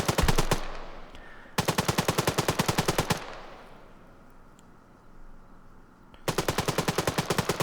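AI soldiers firing machine guns in the game Arma 3, loud rapid bursts of automatic gunfire in three long volleys separated by quieter gaps.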